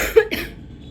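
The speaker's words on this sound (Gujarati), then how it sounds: "ઉધરસ થઈ ગઈ છે થોડીક તબિયત ખરાબ છે" A single short cough from an adult with a mild illness, close and fairly loud, followed by a brief throat sound and quiet room tone.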